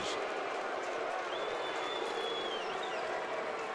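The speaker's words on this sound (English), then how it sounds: "cue the boos" Crowd at a Milwaukee at Atlanta baseball game booing batter Ryan Braun, a steady, broad roar of disapproval filling the ballpark throughout, with no clear breaks.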